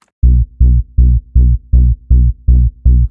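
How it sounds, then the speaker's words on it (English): Low-end bass layer of a hard bounce kick synthesized in Serum, eight heavy booming hits in an even rhythm with short gaps between, loud and isolated. "So the first layer will be just the low end of the bass."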